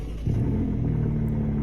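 A car engine in the video game Greenville starts up, a short crank followed by a low, steady idle rumble close by.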